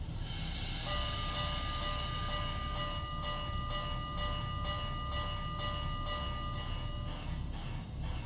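A model MTH AC-6 cab forward locomotive rings its bell in a steady, evenly spaced clang that repeats about twice a second over a constant hiss of background noise.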